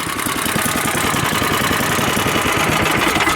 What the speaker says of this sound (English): As you can see, it is idling and it's producing power.